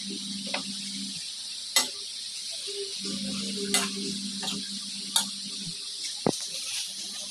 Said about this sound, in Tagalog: Haluin natin para mahalo ito sa ilalim